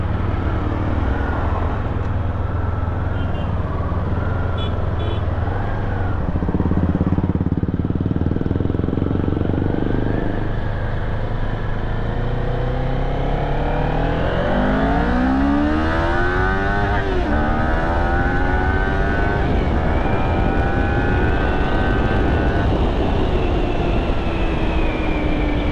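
A Kawasaki Ninja 400 motorcycle accelerates hard from a standstill toward 100 km/h, its engine note climbing in rising sweeps through gear changes, loud and close throughout with a steady roar and no talk.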